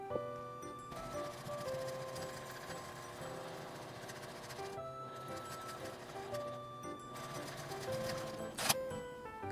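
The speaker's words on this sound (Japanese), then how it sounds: "表側から蓋の部分だけ端ミシンをかけます。" A sewing machine edge-stitches the lid of a small fabric coin purse made from scrap cloth, running in a steady, quick mechanical rattle that pauses briefly once and then resumes, close and moderately quiet.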